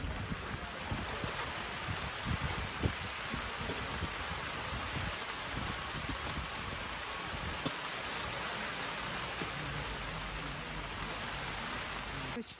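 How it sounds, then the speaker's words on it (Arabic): Heavy rain pours onto festival tents, a dense, steady hiss of drops with occasional sharper pattering and gusty rustle, continuous and enveloping for the whole stretch. "الشتا بغزاره"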